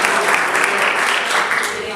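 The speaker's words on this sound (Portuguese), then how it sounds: "Se é para Deus, gente, vai com aplauso, muito mais forte." A church congregation claps steadily in a dense, continuous wash of applause during a Pentecostal-style service, loud and close, with no clear voices standing out.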